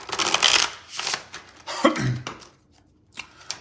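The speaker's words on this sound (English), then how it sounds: "going to shuffle 2 more times." Quick riffling bursts of cards being shuffled, close and crisp, with short pauses between the shuffles.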